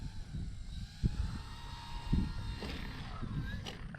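FMS PA-18 Super Cub 1300mm radio-controlled model airplane flying at a distance, its faint electric motor whine steady over outdoor wind and a few soft thumps, with no talking.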